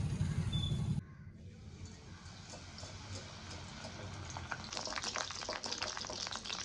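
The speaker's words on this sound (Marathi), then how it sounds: "सगळ्यात पहिले आता मिरच्या तळतो." Green chillies fry in hot oil for corn chivda, giving a steady close sizzle and crackle that grows brighter and busier toward the end, after a short louder burst at the start.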